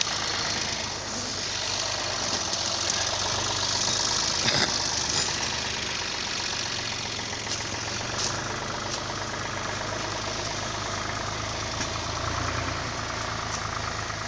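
A tractor engine idles steadily out in a forest, a constant low rumble with a faint knocking texture that holds at an even level throughout, with no talking.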